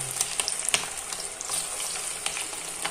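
Chicken pieces frying in oil, a steady close sizzle with scattered crackles and pops, heard alone without talk.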